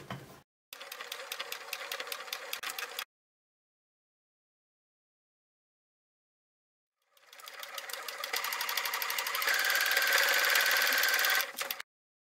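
A sewing machine stitches quilted fabric for a zippered purse in two bursts of rapid, even mechanical clatter. A short run comes first, then a longer, louder one after a silent pause.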